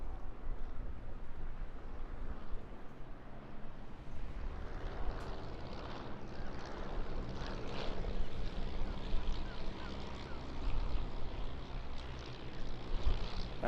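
A Stampe biplane flies at the Eastbourne International Airshow, its propeller engine droning steadily with a rough, continuous roar that swells and fades slightly as it passes, with no voices over it.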